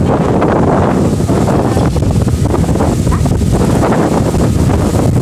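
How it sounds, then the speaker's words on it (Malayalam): Strong gusting wind beside the Chitravathi river buffets the microphone in a loud, continuous roaring rush with no voices. "ഭയങ്കര കാറ്റാണ് കാറ്റുകൊണ്ട് നമുക്ക് നിൽക്കാൻ പറ്റുന്നില്ല"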